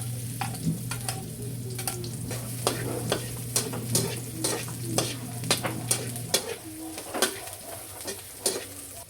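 Garlic and onion sautéing in a pan, with steady sizzling under repeated sharp clinks of a utensil stirring against the pan, and a low hum that cuts out partway through.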